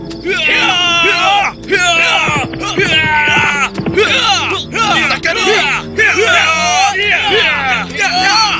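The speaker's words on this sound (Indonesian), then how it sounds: "Lalu malam yang sunyi itu pun dipecahkan dengan teriakan keras." A crowd of attackers yells and bellows loud, overlapping battle cries at night, repeated bursts of shouting voices close and intense.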